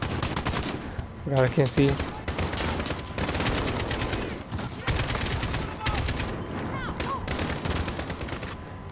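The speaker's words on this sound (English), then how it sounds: "Alright, time to use a gun." Call of Duty: Modern Warfare gunfire rattles in rapid bursts of automatic shots, loud and close, mixed with whizzing and impact sounds while a player talks over the fighting.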